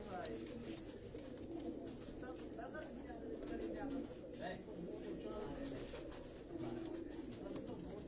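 A racing pigeon coos in low, repeated murmurs amid a noisy background of a pigeon loft in Karachi, with a voice speaking faintly underneath.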